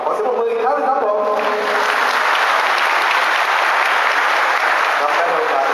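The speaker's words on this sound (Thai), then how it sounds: "ขอเสียงปรบมืออีกครั้งครับผม" A crowd applauds loudly at a sports event opening ceremony in Lampang, Thailand, a dense steady clapping that follows a brief voice at the start and carries on throughout.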